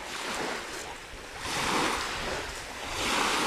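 Sea waves break and wash up on a beach at Kusadasi National Park in Turkey, swelling in repeated rushes every second or two, fairly close, with wind buffeting in the background.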